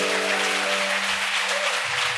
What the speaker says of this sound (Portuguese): quero que essa igreja louve o Senhor através de uma salva de palmas